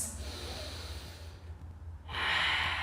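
Slow, audible breathing during a held yoga pose in a family yoga session: a long, close exhale with a soft breathy hiss, a brief pause, then a louder, airy inhale or exhale.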